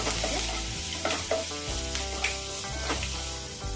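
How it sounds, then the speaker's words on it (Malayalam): Ginger garlic paste frying in hot oil after mustard seeds have spluttered, cooking for tapioca biryani: a steady close sizzle with stirring scrapes and a few sharp pops, no talking. "കടുപൊട്ടി ഇഞ്ചി വെളുത്തുള്ളി പേസ്റ്റ് കറച്ചതാണ്"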